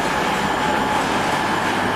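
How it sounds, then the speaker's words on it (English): A CrossCountry Class 220 diesel train passing close by on a Bristol line, giving a steady, loud broadband rumble and rushing roar that holds evenly throughout, with no voices. "We've got a cross-country Class 220."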